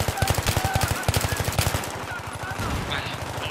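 Enemy automatic gunfire in Battlefield 3 rattles in rapid, evenly spaced bursts close by. The shots break up near the end into scattered reports with a faint voice underneath.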